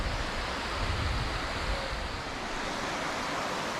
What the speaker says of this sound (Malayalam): നല്ല ഒഴുക്കും ഒഴുകി പോകുന്നത്